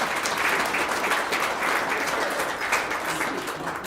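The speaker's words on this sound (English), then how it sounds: "Let's give a round of applause for our first event." Audience applause at a panel event on the future of downtown Calgary, a sustained, even patter of many hands clapping at moderate volume throughout, with no talk over it.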